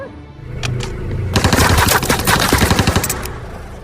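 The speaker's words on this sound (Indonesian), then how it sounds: "mendengar suara tembakan" Loud bursts of automatic gunfire from an action film scene outside a bar, rapid overlapping shots rattling continuously for a few seconds with no talk.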